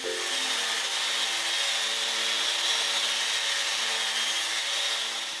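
Blue resin-covered bone circles being sanded, giving a steady, continuous abrasive hiss that runs without a break from start to finish, close and fairly loud, with no voices.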